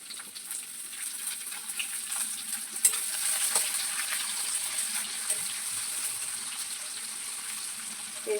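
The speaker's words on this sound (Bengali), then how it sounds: "এটা ভাজা ভাজা হওয়ার পরে আমি এদিকে দিয়ে দিব পেঁয়াজ কুচি।" Food sizzling steadily in a hot pan for a home-cooked Bengali dish, a constant hissing fry with faint stirring clicks and occasional sharper pops, close by and with no talk.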